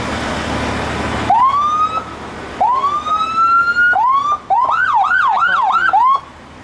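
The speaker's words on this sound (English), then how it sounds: "Siren scared the hell out of me for a second." A loud, close emergency vehicle siren at an airport sweeps upward in long rising wails, then switches to a rapid yelping warble.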